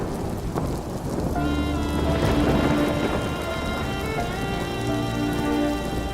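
Heavy rain pours steadily over a coastal fishing village during a stormy spell, a dense continuous hiss filling the whole stretch with no voices.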